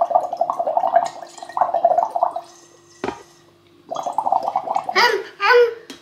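A child blows through a tube into water, making bursts of bubbling, gurgling noise. They come in two stretches, split by a short thump. A faint adult voice talks in between.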